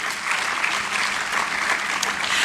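Audience applause at a Ghanaian higher education summit, a steady, dense wash of many hands clapping that fills the room evenly throughout without pause.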